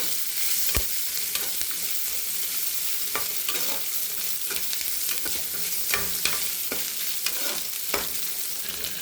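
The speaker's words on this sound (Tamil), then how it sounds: "வெங்காயம் போட்டுக்கலாம். நல்லா வதக்கலாம்." Chopped onions sautéing in a pan with a pinch of salt, a continuous soft sizzle broken by repeated scraping clicks of a spoon stirring through them, close by and without talk.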